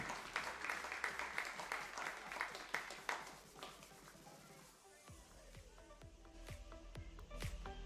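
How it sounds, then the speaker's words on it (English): Audience applause at a secondary schools softball championship prize-giving, a crowd clapping steadily through the first half, then thinning to scattered claps with a few louder individual claps toward the end. "Round of applause for Rose Hill."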